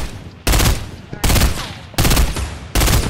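Four loud gunshot bursts in Fortnite, roughly evenly spaced about three quarters of a second apart, each a sharp crack with a short rumbling tail, close and dominant.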